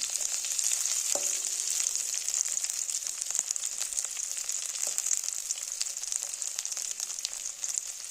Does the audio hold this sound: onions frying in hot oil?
yes